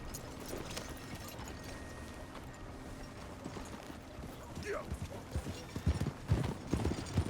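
Horse hooves clip-clopping in the Western video game Red Dead Redemption 2, a steady rhythmic trot under game ambience that grows louder and heavier toward the end, with voices and mechanical clicks around it.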